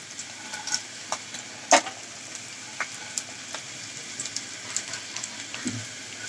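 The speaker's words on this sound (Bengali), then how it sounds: "পেস্টটা আমি বাদামি কালার করব ভেজে।" Spice paste fries in a little oil in a pan for dried fish bharta, a soft continuous sizzle broken by scattered scraping stirs and one louder clatter, close and fairly quiet.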